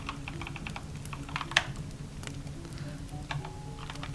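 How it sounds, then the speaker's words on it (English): Quiet, steady typing on a computer keyboard, a rapid uneven patter of key clicks with a few louder taps, alone over a faint hum. "hopefully the typing is relaxing"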